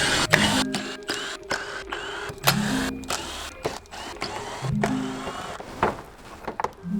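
Screws being removed from the bumper of a BYD Shark during a grille kit installation, heard as short mechanical whirring bursts from a power driver repeating in spurts alongside clicks and handling clatter, with no talking.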